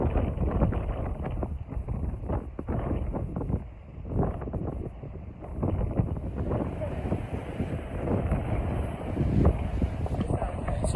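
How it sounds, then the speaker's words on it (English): Strong wind gusts roar steadily through woodland trees at a hillside wild camp in the Peak District, a loud continuous buffeting with surges, rumbling across the microphone. "It's so windy."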